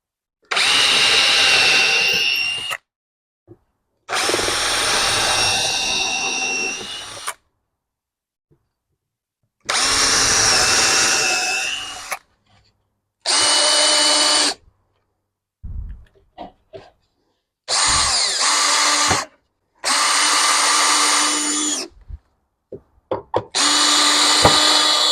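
A power drill boring pilot holes into a TV stand, whining in several separate bursts of a few seconds each with quiet gaps between, close and loud with no talking.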